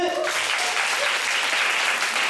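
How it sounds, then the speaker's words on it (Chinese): An audience at a debate competition final bursts into sustained applause, a thick, even crackle of many hands clapping at once. "我们掌声欢迎他们"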